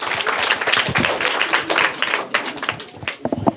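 Schoolchildren at a private school in Bihar clap hard for a classmate during a general-knowledge quiz, a close, uneven patter of many small hands that thins and scatters toward the end.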